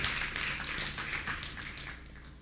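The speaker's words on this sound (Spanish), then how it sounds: "¿Cuánto le da un aplauso al Señor?" Congregation applause during a Spanish-language church sermon, a soft continuous clapping from the room with a low hum underneath, fairly distant and fading slightly toward the end.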